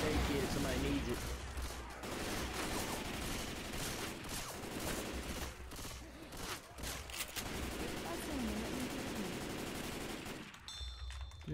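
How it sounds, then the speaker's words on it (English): Rapid automatic gunfire in a multiplayer shooting video game, dense bursts of shots rattling almost continuously, with voices talking over the firing. "Keep shooting, man. Keep shooting."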